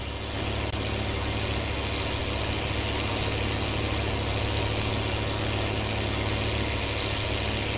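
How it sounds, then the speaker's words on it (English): A tractor engine idles in Farming Simulator 19, a loud, steady low rumble with a faint high whine running continuously for the whole stretch. "the tractor sounds glorious."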